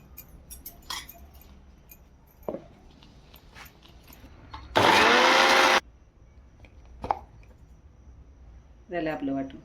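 A mixer grinder whirs loudly for about a second, grinding roasted onion, coconut, garlic and ginger into a paste for Maharashtrian akkha masoor, between kitchen clinks and soft talk.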